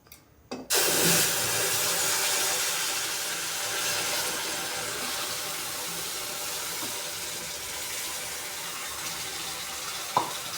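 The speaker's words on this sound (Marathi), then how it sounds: "आता आपण ह्याच्यात टाकू गुळाचं पाणी।" Jaggery water poured into roasted semolina in a hot pan, a sudden loud hissing rush that settles into a long steady sizzle, with a faint clink near the end.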